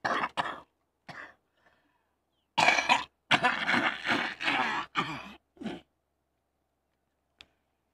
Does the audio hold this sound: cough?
yes